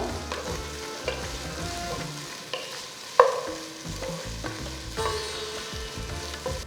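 Tomatoes frying in a pan for Telangana-style bagara rice, with a continuous moderate sizzle, spatula stirring and scraping, and one sharp clink of utensil on pan partway through.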